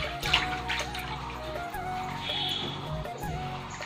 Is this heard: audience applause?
no